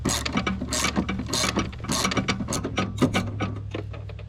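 A ratchet wrench clicks in quick, uneven bursts while loosening the 13mm battery hold-down bolt on a Chevy/GM Duramax truck, close and crisp with a low hum beneath.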